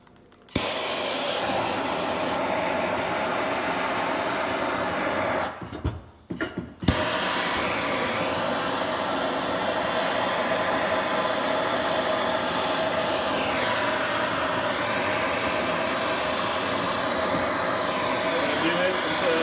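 A torch heating copper pipe and brass plumbing fittings for brazing roars steadily at close range, with one brief drop in the middle, while a voice talks over it.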